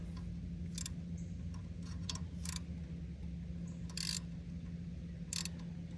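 A socket wrench ratchets on a well pressure switch in a crawlspace, a few short, faint clicking bursts spaced irregularly over a low steady hum.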